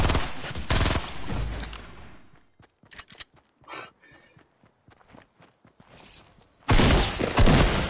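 Fortnite gunfire in a skirmish at Dusty Divot, with loud dense bursts at the start and end and scattered sharp shots and footsteps in between.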